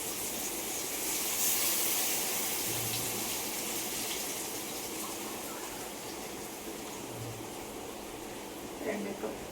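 Two cups of water pour into a cooking pot of spiced vegetables, a steady close hissing gush that runs for several seconds and then tapers off.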